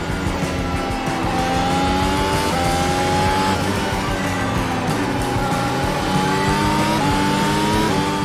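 A modern Formula 1 car lapping the Nordschleife in a racing simulator game gives a loud, steady engine whine that climbs through repeated upshifts and drops on downshifts, with tyre noise throughout and no talk.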